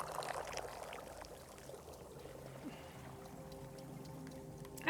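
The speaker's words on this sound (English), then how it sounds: "I'm real bad at pouring this tea." Tea is poured into a cup in a steady faint stream, heard alone at low volume against soft background noise.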